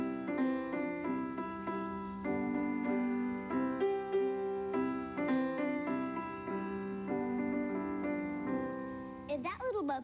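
Simple melody of Mary Had a Little Lamb played on a keyboard-like instrument, steady sustained notes in a clear rhythm, alone with no voices, ending with a brief sliding sound.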